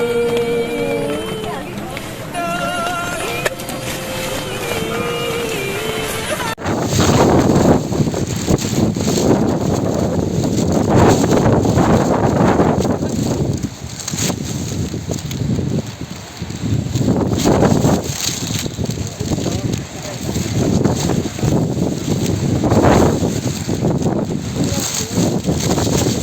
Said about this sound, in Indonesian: Dari semalam sampai pagi, badai angin pun tidak kunjung reda.